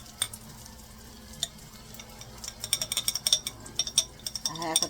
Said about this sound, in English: a half a teaspoon of garlic to the top of the onion. You hear the sound start to change?